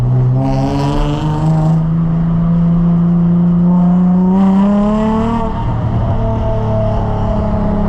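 An Infiniti G35's engine revs loud and close, its pitch climbing steadily through a long pull before dropping and rising again in a second surge, with no voices.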